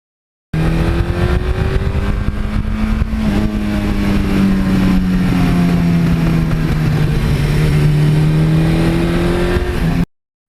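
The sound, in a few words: Suzuki GS1100E motorcycle engine with 86 exhaust rumble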